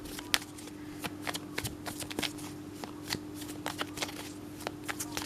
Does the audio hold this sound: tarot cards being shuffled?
yes